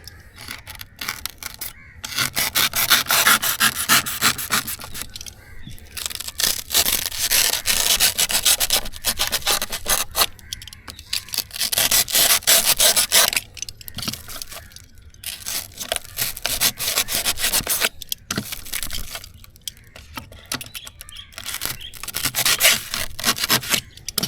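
Hardened foam filling is cut and trimmed inside a fishing boat, giving continuous loud rasping, scraping strokes that come in steady bursts with brief pauses, close up and with no talk.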